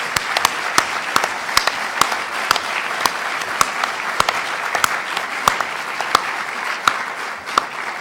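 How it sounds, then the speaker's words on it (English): Audience applause at an afternoon meeting session, steady, moderately loud clapping from a seated crowd, with a few sharp nearby claps standing out above the wash. "I would like you all to give a special round of applause to Isabelle's work"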